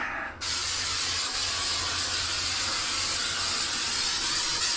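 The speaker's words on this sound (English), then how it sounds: "So I need to spray the back." Adhesive sprayed from a can onto the back of a subfloor piece during a rotten mobile home subfloor repair, a loud continuous hiss starting abruptly and holding steady close to the microphone.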